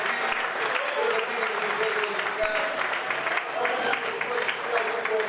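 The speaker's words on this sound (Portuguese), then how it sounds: "Você pode aplaudir Jesus neste momento?" Church congregation applauding during a service, steady dense clapping from a large gathering, with some speech-like sound faintly mixed in.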